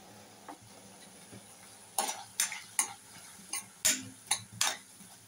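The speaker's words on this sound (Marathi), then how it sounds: "तातूंत इल्लें चवी पुरतें मीठ घालतां आनी ढवळून घेतां." Ridge gourd bhaji is stirred in a pan over a steady sizzle: after a quiet start, about eight sharp, close scraping strokes of a spoon against the pan come in an irregular rhythm.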